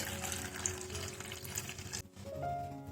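Water pours steadily into a pot of lentils with a rushing, gurgling splash, then the flow stops abruptly and a low hum remains.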